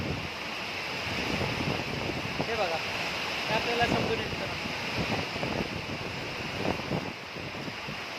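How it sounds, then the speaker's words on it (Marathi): Heavy rain pours steadily in a broad, constant hiss with a drainage outlet running water nearby, while someone talks over it throughout. "पाऊस भरपूर प्रमाणात आहे मित्रांनो."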